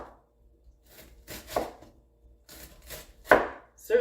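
A knife chops a chunk of cabbage by hand on a board, giving several close, irregular crunching thuds, with the heaviest strike near the end and no voices.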